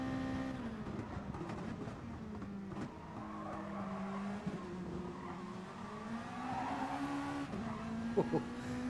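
Race cars in a racing video game accelerate hard out of corners, their engines whining and shifting pitch over steady tyre noise throughout, with a commentator's voice faintly underneath.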